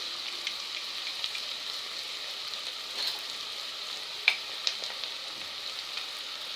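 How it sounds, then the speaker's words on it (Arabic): Onion fries in a pan with a little salt, giving a soft, steady sizzle and crackle with a few sharper pops, heard alone and fairly quiet. "هحط عليها سنه ملح والبصله بتتحمر كده"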